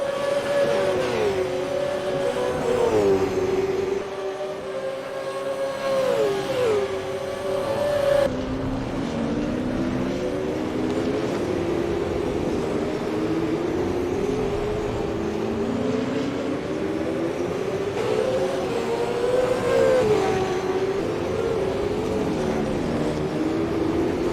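Supercars in the Super 2 race at Townsville, engines droning and rising in pitch through gear changes, one car passing close and loud while others hum steadily in the background, with no break in the engine noise.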